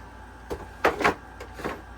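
A vintage sewing machine drawer is slid back into place with a few short scraping, rattling strokes at moderate distance and fairly quiet, with no talking.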